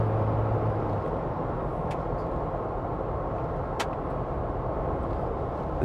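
A 2025 Jeep Wrangler Rubicon X accelerating at half throttle on a road, heard as a steady, loud engine and road drone with thick-tread tire rumble, unbroken and without talk.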